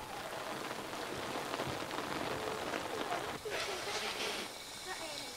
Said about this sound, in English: I don't like getting wet when the rain comes down from the sky.